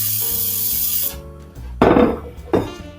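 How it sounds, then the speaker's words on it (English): Cooking spray hissing onto containers while making chicken enchiladas, a sustained hiss followed by two short sharp bursts, close and loud with no talk. "Then we're gonna spray"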